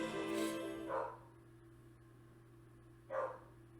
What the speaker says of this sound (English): Y'all hear my dog up there?